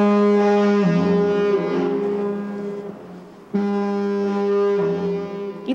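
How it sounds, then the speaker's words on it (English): A deep compressed-air lighthouse foghorn on Lennard Island blasts twice, each long, loud low tone with a lower second pitch dropping in, separated by a short gap. "It's really too loud, the foghorn."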